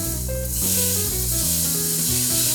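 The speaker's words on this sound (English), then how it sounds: "So next we're going to transfer our meat mixture into this saucepan" Meat mixture sizzles as it is tipped into a saucepan, a steady frying hiss starting after a moment and running beneath louder background music.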